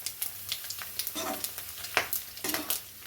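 Mustard seeds crackling and curry leaves sizzling in hot oil on a lowered flame for rose-petal chutney, a steady close frying hiss broken by frequent sharp pops.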